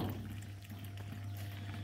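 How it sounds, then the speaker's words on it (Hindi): Water trickling slowly into a Whirlpool fully automatic washing machine with a low-flow fault, a faint continuous pouring hiss over a steady low mechanical hum. "पानी इसमें ये ड्रॉप ड्रॉप पानी आ रहा है एकदम कम पानी"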